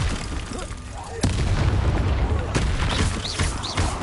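A Confringo spell blast in Hogwarts Legacy hits as a sudden heavy boom, followed by a sustained rumbling roar of combat noise, with a voice calling out over the battle.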